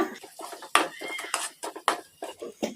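A spoon scrapes and clinks against a pan again and again while egg masala is mixed with salt and chilli powder, in a quick, close, uneven rhythm of metallic taps.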